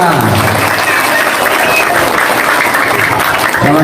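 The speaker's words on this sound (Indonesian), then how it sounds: "Woi, tepuk tangan buat anak-anak semua." Crowd clapping for children gathered around at a neighbourhood community visit, loud and dense, with cheering and voices mixed into a continuous roar throughout.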